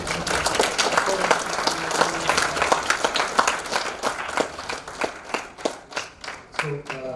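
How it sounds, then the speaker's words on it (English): A crowd at a student innovation award ceremony claps in a steady, dense round of applause that thins into scattered individual claps toward the end. "we can give a great round of applause to the children."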